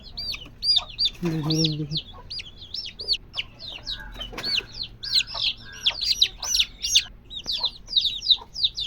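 Young desi chicks being vaccinated cheep in a dense run of high, rapid peeps, with a brief louder squawk and faint voices in the background as the birds are handled.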